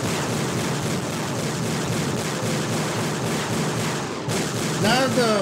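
Weapon fire in the video game Forsaken Remastered, a dense, continuous barrage of loud shots and blasts that runs unbroken throughout, with a brief dropout near the end followed by rising electronic chirps.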